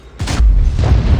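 A single heavy tank cannon shot in World of Tanks, from the FV215b 183, fires a loud, sharp boom that rolls into a deep, lingering rumble.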